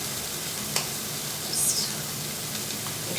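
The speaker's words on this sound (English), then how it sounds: "I'm gonna give these a little stir over here, kind of coat them." Ricotta meatballs sizzle steadily in a pan on the stove while being gently stirred, with a clink of the utensil and a brief hiss of steam over the continuous frying.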